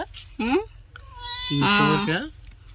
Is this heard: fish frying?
no